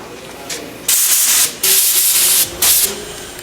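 Spray gun laying down coats of metallic base paint, three loud sustained hissing bursts of about half a second to a second each, preceded by a fainter short hiss, with brief pauses between passes.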